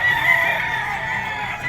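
Roosters from a gamefowl breeder's flock at a market gathering in Bocaue, Bulacan crow and cluck steadily and loudly, several birds overlapping throughout with no voices.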